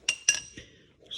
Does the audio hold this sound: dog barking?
no